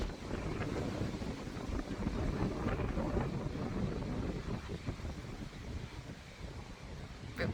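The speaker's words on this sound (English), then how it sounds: "It's windy." Steady wind roars and buffets the microphone throughout, a continuous broadband rush with gusty swells and no voices.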